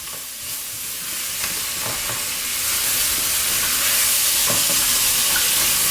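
A spoon scraping the bottom of a hot pan of chicken tajine to lift browned meat juices, occasional scrapes over a loud, steady sizzle that builds slightly.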